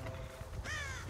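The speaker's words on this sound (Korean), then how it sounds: "어디서 까마귀가 울어대네." A crow caws once in the horror game Dead by Daylight. It is a single harsh, rasping call rising out of a quiet, murky game ambience near the end.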